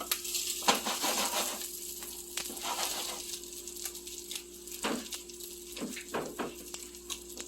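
Steady close sizzling of pre-cooked crappie cakes crisping and warming in a hot pan, with a few soft clinks and stirring sounds over a continuous frying hiss.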